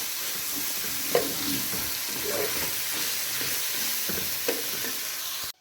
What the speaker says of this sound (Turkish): Arası da yumurta kavuracağım.